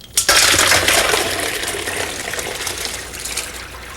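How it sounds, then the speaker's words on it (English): Blanched green beans and peas are poured into a colander at a kitchen sink, starting with a sudden splash and then a steady rushing gush of draining water that slowly eases. "Let's take this over to the sink now and drain it."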